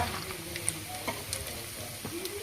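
Chicken skin, boiled first and then fried in its own rendered fat, sizzles with a steady close hiss and scattered small pops and crackles, with no talking.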